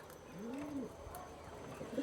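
Pigeon cooing, a young pigeon of a pure breed, soft low coos rising and falling near the start, then faint repeated murmurs against light background noise.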